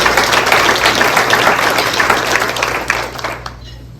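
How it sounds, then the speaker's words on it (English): Audience applause at a school district Hall of Honor induction ceremony, a steady dense round of clapping from a full room that fades out near the end, with a low hum underneath. "Let's give them one final round of applause."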